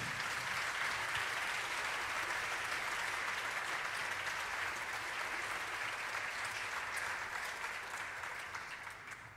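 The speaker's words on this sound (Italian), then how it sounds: "E ancora un applauso per Giovanni Ceccarelli al piano." A concert audience applauds a pianist at a music performance, a long even wash of many hands clapping, moderately distant and soft, slowly tapering off toward the end.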